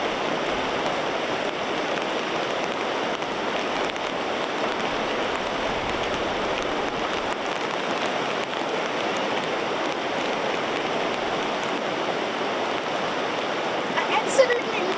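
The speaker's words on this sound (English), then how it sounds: "I think there's just no getting away from the rain." Heavy rain pours steadily outside a mountain hut in New Zealand, a dense, even hiss of rainfall with no letup for the whole stretch.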